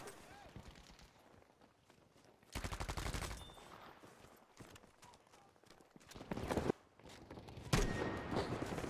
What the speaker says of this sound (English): I will leave you with some nasty clips with the Tommy gun